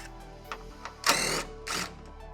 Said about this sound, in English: we're going to go ahead and remove the forward bolt.